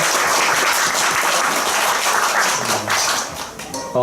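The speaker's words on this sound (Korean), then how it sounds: "하나님께 영광의 박수 한번 올려드릴까요?" Church congregation at a worship service applauds with dense, steady clapping that fills the space, then thins and fades near the end as a musical tone enters.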